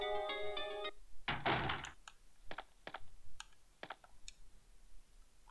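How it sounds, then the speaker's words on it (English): A bookcase shoved aside inside a mansion in the Resident Evil video game, playing as Jill: a short chiming tone, then one brief, heavy scraping burst followed by a few sharp, scattered clicks. "Push that bookcase out of the way."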